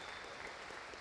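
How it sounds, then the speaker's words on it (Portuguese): A church congregation applauds during a Sunday worship service, a soft, even patter of many hands clapping at a distance, continuous and fairly faint throughout. "Dê uma salva de palmas ao Senhor"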